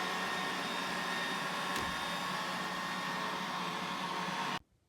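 A Roomba 805 robot vacuum runs with a steady, close whirring hum and airy hiss that holds constant before cutting off abruptly near the end.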